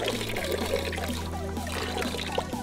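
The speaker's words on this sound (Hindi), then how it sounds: "इसके अंदर से बहुत गर्म पानी आ रहा है गाइस, बहुत ज्यादा गर्म पानी आ रहा है।" Very hot water streams and trickles out of a pipe on a car rigged to heat water, a steady close pour with a low engine hum running beneath it.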